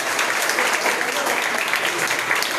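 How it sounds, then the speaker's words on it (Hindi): A crowd at an Indian intercollege mental health and career counselling session claps to close the meeting, a thick, continuous wash of applause with no break. "तो आइए मीटिंग का समापन करते हैं तालियों के साथ"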